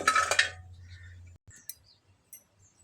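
Fried coconut pieces tipped from a kadai onto a plate: a short clatter and scrape of metal at first, then a few light clinks against the dish in near silence.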